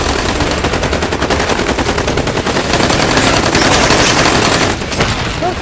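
Sustained, loud machine gun fire from a Hindi action movie scene, rattling continuously in rapid bursts for several seconds with a few heavier booms mixed in.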